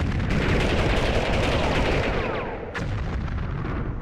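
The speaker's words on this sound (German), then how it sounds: "Nein, ein Granatwerfer." Grenade launcher fire on a cramped street in Army Men 3D on PlayStation 1, a loud sustained run of booming shots and crackling gunfire with a sharp crack near the end.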